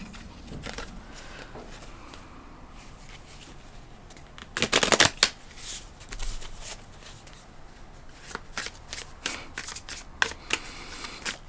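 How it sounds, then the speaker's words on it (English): A deck of animal oracle cards is shuffled up close in quiet, soft riffling and patting flurries, with a denser burst of rapid card flicks in the middle. "I'm going to pull one more card from this animal deck."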